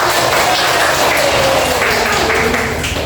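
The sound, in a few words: classroom applause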